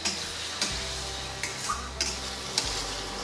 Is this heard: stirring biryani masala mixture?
yes